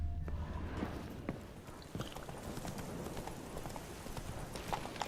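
Horse hooves in The Witcher 3 clip-clopping at a steady walking pace, fairly quiet, with a faint whinny near the start and a soft background ambience.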